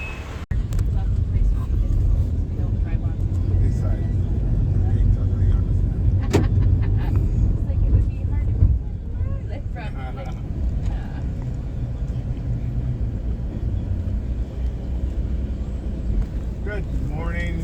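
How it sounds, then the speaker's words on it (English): Small-group tour bus driving on Barbados roads after leaving a cruise ship, a steady low engine rumble and road noise from inside the vehicle, with passengers talking over it. "This is our tour bus."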